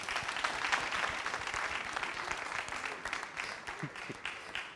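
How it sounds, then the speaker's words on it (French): A crowd claps continuously at moderate volume, a steady patter of many hands throughout. "Merci de l'applaudir."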